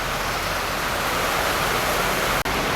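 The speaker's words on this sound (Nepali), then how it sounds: "ल साथीहरू थामी नसक्नु पानी आएको छ अहिले" Heavy rain pours down steadily as a dense, even roar with no break except a split-second dip near the end, no voices over it.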